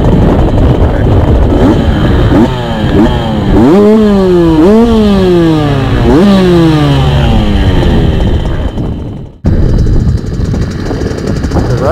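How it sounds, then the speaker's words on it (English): A motorcycle engine with a freshly repacked muffler and a new top end, at a raceway: repeated sharp, crisp revs rise and fall close by, then a brief cut and a rough idle. "I repacked the muffler, it's got a new top end in it, so nice and crisp."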